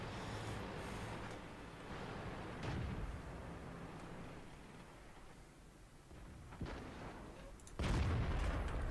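A Patton-59 tank cannon fires in an online battle game, with dull booming shots that rise over constant rumbling noise. One heavy blast comes near the end.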